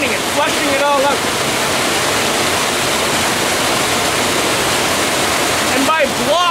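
Loud, constant rush of churning water roars close by as it flushes through a blocked micro hydro intake box, with brief voices breaking through near the start and end.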